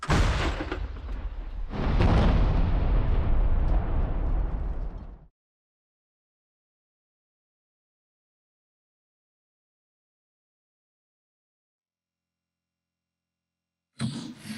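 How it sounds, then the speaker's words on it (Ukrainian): A loud, close blast from a border guard artillery gun roars and rumbles for several seconds, then stops abruptly into silence before another burst begins. "Постріл! Постріл!"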